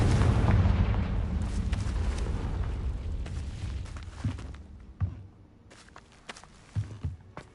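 A Confringo blasting curse detonates in the Hogwarts Legacy video game: a loud, broad roaring blast that slowly fades over several seconds, followed by scattered softer thuds and footfalls.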